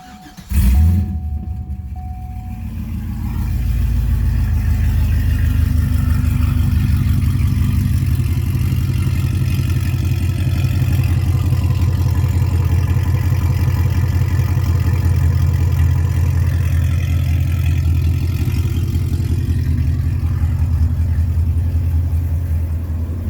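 Supercharged engine of a 2009 Cadillac CTS-V starts with a sharp burst, then settles into a loud, steady, deep rumbling exhaust idle with a constant blower whine, close up and without voices.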